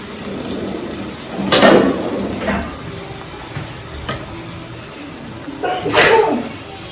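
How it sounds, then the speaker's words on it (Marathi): A woman sneezes twice while cooking vegetables, several seconds apart, each a sharp burst, with quieter kitchen sounds and a faint clatter in between. "कधी पण भाजी करते ना मला शिंका येतात"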